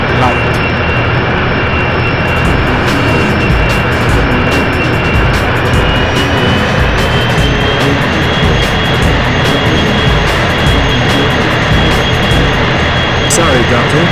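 A loud, steady jet aircraft engine roar from the PS1 racing game 007 Racing drones continuously throughout, with a faint high whine on top and no pauses.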